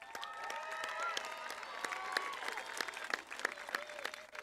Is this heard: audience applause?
yes